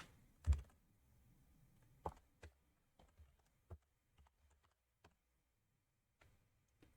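Someone types an email address and subject line on a computer keyboard. The keystrokes are faint and sparse, with irregular soft clicks and one sharper tap early on, set against quiet room tone.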